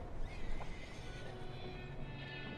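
Horse neighing in the Red Dead Redemption 2 video game, a single whinny under a steady background hum, fairly quiet and distant in the mix.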